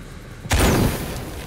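A single loud video-game explosion in Shadow of the Tomb Raider booms out suddenly after a quiet hum, then rumbles and fades away over the next second.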